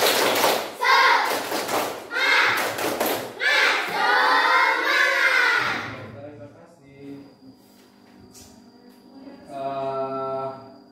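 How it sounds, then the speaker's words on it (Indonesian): A class of children in a school lesson chant together and clap in a quick rhythmic spirit-clap routine, with loud group voices and sharp hand claps over the first half before fading to quieter room sound. "Kalau semangat, kita tepuk semangat yuk."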